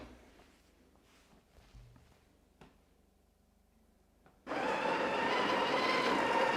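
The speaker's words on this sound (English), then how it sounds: "We're going to grind our coffee." Sage Barista Touch Impress grinding coffee: after a few quiet clicks and handling sounds, a loud, steady whirring grind starts abruptly and continues close up to the end.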